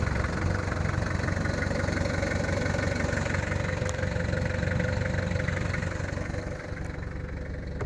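A 1993 Toyota Hiace 4x4 diesel van's engine idling with a low, even rumble and faint knocking, running smoothly and continuously at close range.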